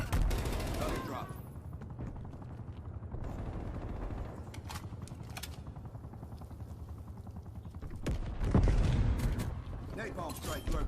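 An attack chopper in the video game Black Ops Cold War rattles out bursts of loud automatic gunfire, heavy at the start and again near the end, with a radio-style voice talking in between.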